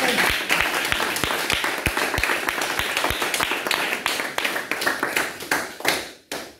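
A church congregation claps in a steady, fast rhythm of sharp, loud hand claps during a worship service, thinning toward the end before a final burst and a sudden stop.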